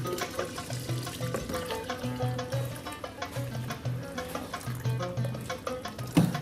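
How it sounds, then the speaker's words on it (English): Boiling water is poured over washed, salted rice in a pot, making a continuous splashing, gurgling flow with irregular sloshing pulses, close by and steady throughout. "And then what we do is pour boiling water on top"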